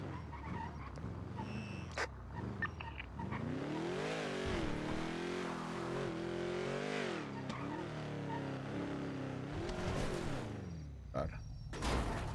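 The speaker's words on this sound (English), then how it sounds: "I'm pretty sure I heard your car." A car engine from a roleplay driving game runs steadily for several seconds, its pitch rising and falling as the car accelerates and eases off, with a few sharp clicks or knocks near the start and end and no speech.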